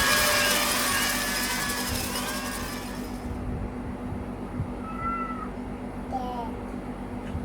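A cat meows several times in short, clear calls during the first half, then fades into a quieter background with a few faint squeaks near the end.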